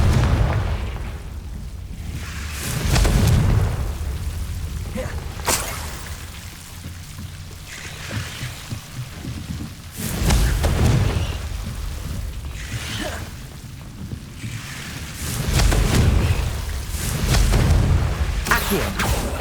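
A Confringo blasting spell erupts in the video game Hogwarts Legacy, with repeated loud booming bursts and low rumbling roughly every five seconds, separated by quieter stretches of crackling game ambience.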